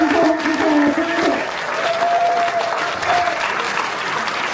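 A theatre audience applauds the performers after a play, giving dense, sustained clapping from a crowd. A voice carries on faintly underneath.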